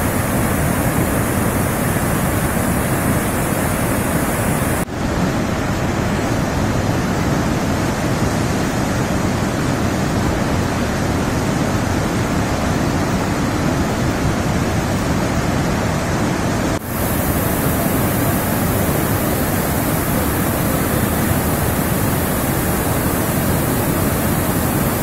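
Water released from the KRS dam roars as a loud, dense, unbroken rush of white noise for the whole stretch, powerful and constant, with no voices over it.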